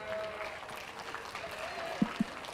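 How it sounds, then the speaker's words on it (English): Scattered applause from a small crowd at a livestock goat show, a soft steady patter of clapping with a couple of sharper thumps near the end. "Big round of applause for these ladies."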